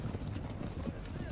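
Horses' hooves clip-clopping in an action film scene where horses are brought as a gift, a muffled, continuous patter of hoofbeats, fairly faint and mixed under voices speaking.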